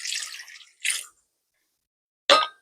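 Apple cider poured into a cooking pot for apple butter, heard as short splashy liquid bursts: a longer pour, a brief second splash, then a final quick splash after a pause, close and clear.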